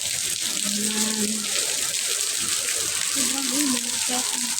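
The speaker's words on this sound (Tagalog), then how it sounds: "Malakas ang ulan." Heavy rain falls steadily as a dense, continuous wash close by, with a voice talking over it partway through.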